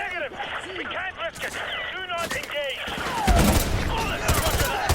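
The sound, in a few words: gunfire shooting through walls in video game Modern Warfare 2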